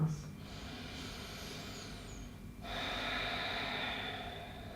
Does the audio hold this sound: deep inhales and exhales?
yes